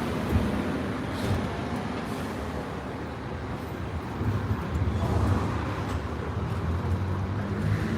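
A Hong Kong tram rolls along its rails with a continuous rumbling clatter, swelling slightly partway through, heard from close by at the back of the tram without any speech.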